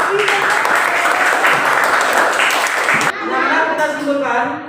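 A class of pupils claps their hands in a classroom, a steady dense patter of applause for about three seconds, then the teacher speaks as the clapping fades.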